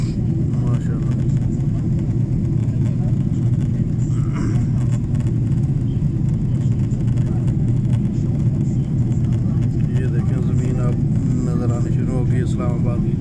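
Large passenger airplane in flight from Saudi Arabia to Pakistan, a steady loud cabin roar of engines throughout, with someone talking over the drone.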